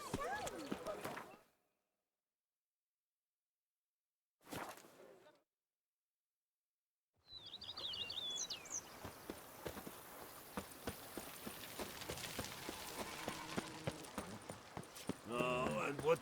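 Geralt's horse Roach from The Witcher 3 trotting with rhythmic clip-clop hoofbeats that run steadily through the latter part, moderately close, under spoken dialogue, after a stretch of near silence.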